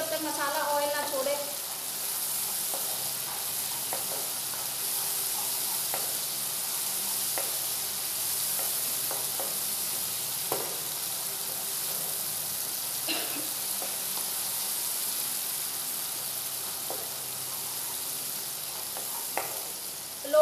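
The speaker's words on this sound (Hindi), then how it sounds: "मसाले को हम तब तक भूनेंगे तब तक मसाला ऑयल ना छोड़े।" Spice masala sautéed in oil over low flame for bhindi masala sizzles quietly and steadily, with occasional scraping stirs and clicks of a spoon against the pan, while someone talks intermittently.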